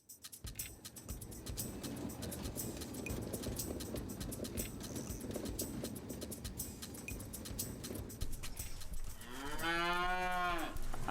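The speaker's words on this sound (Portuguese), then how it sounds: "A vacas leiteiras tem umas 25." A herd of dairy cows on a farm moos. After a long stretch of low, busy barn noise, one loud, drawn-out moo rises close by near the end.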